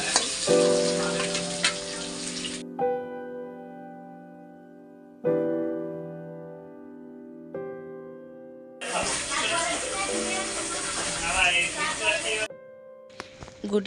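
Potato pieces frying in oil after a batch of battered aubergine fritters, loud bursts of close, dense sizzling broken by stretches of a steady musical tone.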